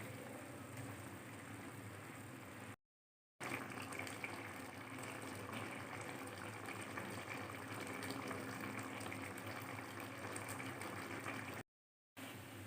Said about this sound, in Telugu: చికెన్లో ఉన్న వాటర్ అంతా ఎవాపరేట్ అయ్యే వరకు బాయిల్ చేసుకోవాలి మధ్య మధ్యలో కలుపుకోవాలి